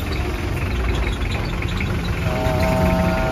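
A 2003 Hyundai Starex engine idling with strong vibration, a steady loud low rumble close up with a faint tonal whine appearing near the end.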